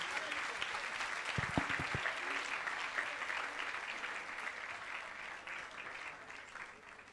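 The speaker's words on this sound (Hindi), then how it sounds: "जोरदार तालियां भाई अल्बर्टो के लिए" Church congregation applauding for Brother Alberto at a communion prayer service, a full, sustained clapping from many people that is briefly joined by a voice near the start, then slowly tapers off.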